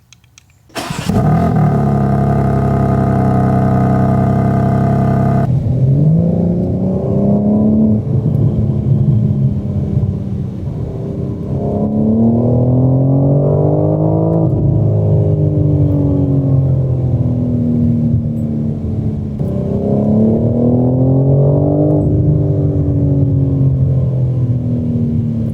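A car engine starts with a loud burst, then revs and accelerates through repeated rising and falling pitch sweeps as gears shift, loud and close throughout with no talk.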